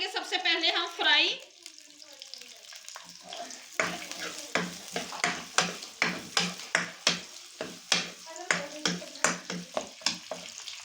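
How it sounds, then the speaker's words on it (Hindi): Onions sizzle in a tablespoon of oil in a pan, stirred with repeated scraping strokes in a steady rhythm, close and clear after someone speaks briefly at the start. "प्याज़ों को करेंगे सबसे पहले हम फ्राई।"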